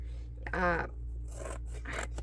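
Scissors snip through brown paper and stout cardstock during a journal craft trim, a short loud cut followed by softer snips, close up over a steady low hum.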